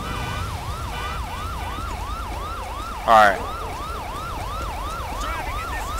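A police car siren wails in a GTA V LSPDFR patrol, a steady, loud up-and-down electronic cycle that keeps going throughout; someone speaks one brief word partway through, and a short burst of noise cuts in mid-way.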